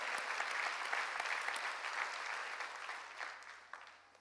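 A church congregation at a summer mountain revival gathering claps hands together in a broad, sustained round of applause that fades slightly toward the end, heard from within the crowd.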